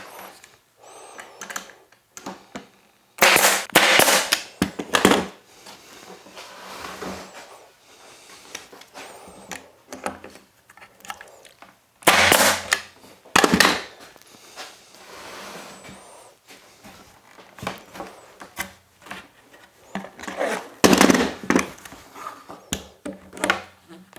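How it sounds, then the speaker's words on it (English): A brad nailer fires brad nails into the wooden sides of an outdoor planter box, giving several sharp, loud bursts in pairs, spaced apart, between lighter tapping and handling noise. "I'm gonna use a couple of brad nails to hold it in place"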